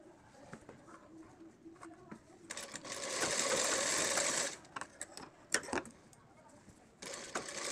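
A sewing machine stitches Patiala salwar fabric, with a fast, loud mechanical whirring run lasting about two seconds. Softer clicks and handling noises come before it, and another short stitching burst follows near the end.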